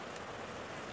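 Rain falling in a survival video game, a dense, steady hiss of downpour filling the moment with no other distinct sounds.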